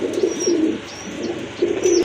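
Iranian golla pigeons of tiger colouring coo in soft, low, rolling phrases, two close calls, then a pause, then two more, with faint high chirps above.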